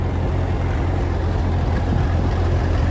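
Massey Ferguson tractor engine pulling slowly in first gear over bumpy ground, a steady low rumbling drone with constant loudness throughout, no voices.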